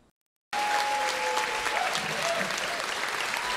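Sustained applause from a studio audience on a paranormal radio talk show, starting abruptly after a brief silence and holding steady and fairly close throughout.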